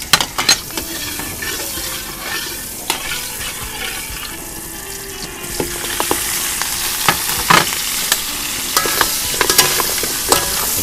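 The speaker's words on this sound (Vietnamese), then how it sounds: "Đây là dầu điều, cho miếng hành," Onion and garlic sizzle in hot annatto oil, with a steady frying hiss, clinks and scrapes of stirring at close range, and no talk.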